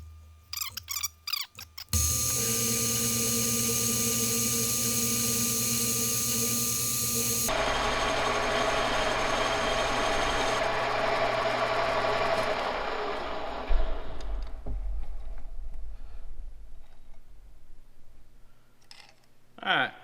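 A Monarch 10EE metal lathe cuts a part with chatter. The workpiece is sticking out too far from the chuck. The cut produces a loud, steady buzzing whine that shifts partway through and fades as the cut ends, with clicks of the machine around it.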